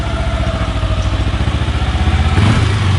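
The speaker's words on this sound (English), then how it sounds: "This is the idle on this thing." A 2008 Kawasaki Ninja 250 motorcycle idling close by, a steady, even, fast-pulsing engine chug with a light mechanical clatter, holding the same rhythm throughout.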